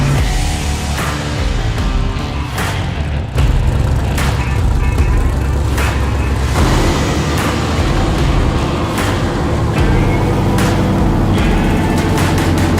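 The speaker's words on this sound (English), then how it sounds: "It is one of the best sounding turbo cars I've ever been around." A twin-turbocharged engine in a car built as a fast cop car, fitted with two 72mm turbos and previously making 600 horsepower naturally aspirated, idles with a loud, steady rumble that swells around the middle and holds throughout.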